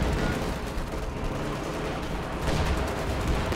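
Heavy artillery fire in the Company of Heroes 2 strategy game during a large armored battle, a dense continuous rumble of distant explosions and gunfire throughout, with no clear separate blasts.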